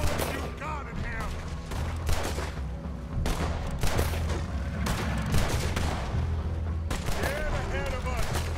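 Rapid gunfire fills a fight against a monster in Red Dead Redemption 2, with repeated sharp shots and bursts going off loudly throughout, under and between voices talking.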